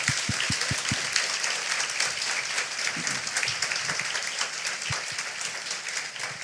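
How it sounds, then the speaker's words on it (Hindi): A church congregation applauds its volunteers, a dense, sustained wash of hand claps filling the hall throughout, with a few low thumps near the start. "क्या हम चर्च के वॉलंटियर्स के लिए ताली बजा सकते हैं?"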